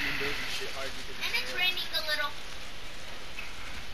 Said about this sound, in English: It's raining that hard.